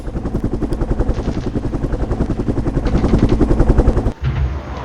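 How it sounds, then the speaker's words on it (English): Two helicopters in the war game Flashpoint Campaigns: Southern Storm: a steady, loud rotor chop pulsing throughout, with dense rumbling beneath, cutting off sharply near the end. "here comes the helicopter again"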